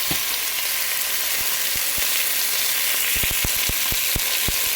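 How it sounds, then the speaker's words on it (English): Steak searing in a really hot pan, a steady loud sizzle and frying hiss with scattered sharp pops and crackles, especially toward the end, with no talking. "First thing we're going to do is get our meat in a really hot pan."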